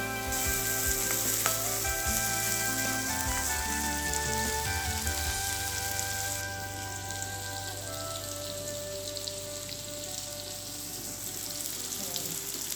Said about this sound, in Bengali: ভাজার কাজটা একটুখানি সময় নিয়ে করতে হবে। চিংড়ি মাছগুলো যেন ভাজা ভাজা হয়